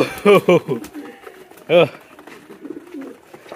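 Pigeons coo loudly at close range in a backyard loft, two quick throaty calls followed by a longer one, then softer rustling and cooing in the background.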